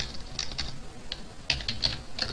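Quick bursts of keystrokes on a computer keyboard while coding a Java program, irregular clicks clustered in small runs, close and fairly crisp, with no voice.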